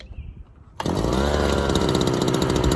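A small engine with its air filter removed bursts into life and runs at full throttle, a loud, harsh, buzzing roar that holds steady and close after a quieter moment of low background noise.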